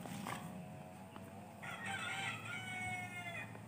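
A small Shanu White rooster crows once in a backyard, a clear, loud, strained call with a rising and sustained harmonic cry, preceded by brief clucking and other fowl sounds nearby.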